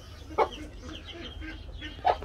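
A chicken gives two short, separate clucks a moment apart, close by, against a quiet farmyard background with faint murmuring.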